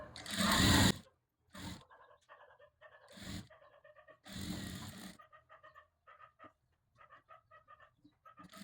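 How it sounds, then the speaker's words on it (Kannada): A sewing machine stitches a katori blouse seam in short bursts of close, mechanical whirring, with pauses in between. "ಎರಡು ಕಡೆ ಕೂಡ ನಾನು ಸೇಮ್ ಇದೇ ರೀತಿಯಾಗಿ ಸ್ಟಿಚ್ನ ಹಾಕ್ಕೊತೀನಿ"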